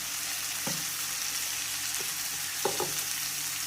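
Frying egg masala gravy in a pan as eggs go in, with a steady soft sizzle and a few brief scraping stirs, close by and without talk.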